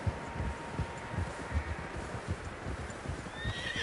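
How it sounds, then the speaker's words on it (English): In the video game Red Dead Redemption 2, many hooves clop in a loose, continuous rhythm as a horse whinnies briefly near the end, fairly faint and without speech. "Horses, quite a few of them."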